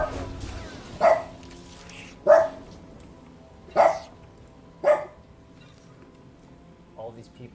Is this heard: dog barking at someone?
yes